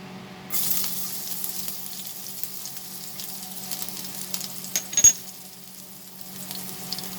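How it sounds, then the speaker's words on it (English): Garlic dropped into smoking-hot mustard oil bursts into a sudden loud sizzle that holds steady and crackles, with a sharp metallic clink near the end, close by. "As you can see, the oil is smoking hot now. So we will add the garlic."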